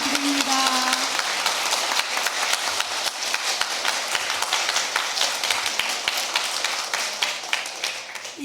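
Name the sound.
congregation applause of thanks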